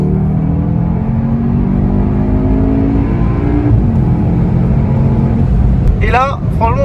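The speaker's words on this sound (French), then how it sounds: "on reconnaît bien le 2 litres TSI 310 qu'on retrouve aussi dans les Golf 7 phase 2" A Cupra Formentor's 2.0 TSI 310 hp engine accelerates with a steady, rising drone heard from inside the car, a brief shift dip midway, and a person exclaiming over it near the end.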